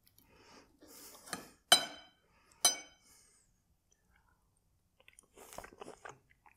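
Chewing while tasting Zürich-style veal strips in creamy mushroom sauce with rösti, close mouth sounds and a few clinks of cutlery on a plate, separated by quiet pauses.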